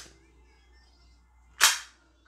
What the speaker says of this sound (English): the first thing we're gonna be doing is shooting BB guns